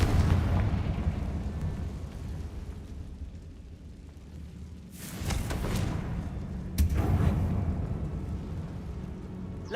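The Confringo blasting spell goes off in Hogwarts Legacy inside a spider-infested tomb, with two sharp explosive bursts rising over a heavy, rumbling background of game noise.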